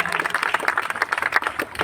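A room of students at a coaching academy claps for a top student, a brief lively burst of dense, steady applause close by.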